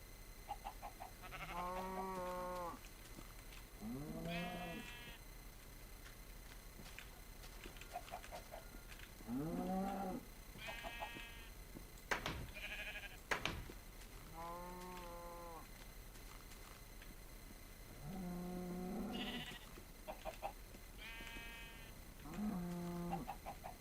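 Blocky sheep in the Minecraft video game bleat repeatedly, several drawn-out wavering baas spaced a few seconds apart at steady loudness, with a couple of brief clicks and no voices.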